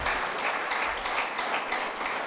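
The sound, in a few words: congregation applauding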